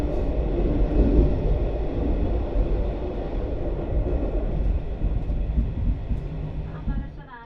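Tågab retro train running south out of Stockholm past Gamla Stan, heard as a steady, loud rumble of wheels and carriage throughout, easing off slightly near the end.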